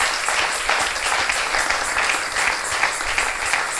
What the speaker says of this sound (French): Est-ce qu'on peut encore acclamer pour ces témoignages?